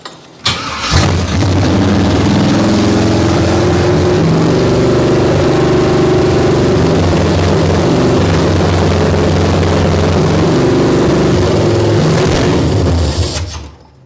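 An abandoned 1968 Camaro with a choke fault and junk parts cranks and fires, then runs loud and rough close by for over ten seconds before cutting off.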